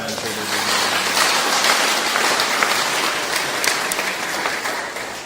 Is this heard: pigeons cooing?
no